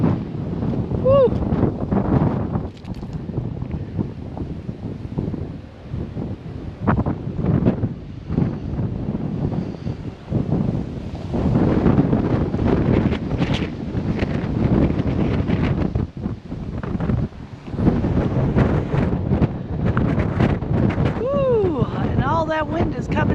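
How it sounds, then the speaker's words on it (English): Strong, cold wind rushes down over mountains near Whittier, Alaska, buffeting the microphone with continuous loud roaring gusts for the whole stretch, while a person talks intermittently underneath. "That wind is coming down over these mountains."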